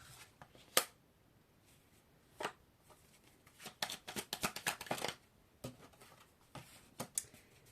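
Playing cards are handled and shuffled close by, scattered soft flicks building into a rapid riffling flurry midway, then a few more light snaps, with no talk.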